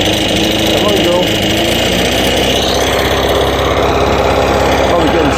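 A Stihl BR 600 backpack blower running on old gas after a tune-up, its two-stroke engine droning loud and close with a rough, uneven pulse, steady throughout with no voices over it.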